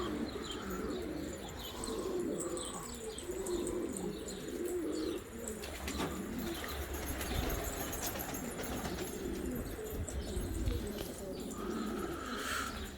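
Flying pigeons of the Turkish Sarı abraj and Sarı alaca gümüşkuyruk breeds cooing and small birds chirping outdoors, a steady flock-like chorus with a low background rumble, moderately loud throughout.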